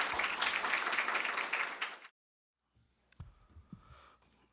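Audience applause welcoming a lecturer at a lecture hall of the Korea National Diplomatic Academy, a dense burst of many hands for about two seconds, then silence and a few faint scattered sounds.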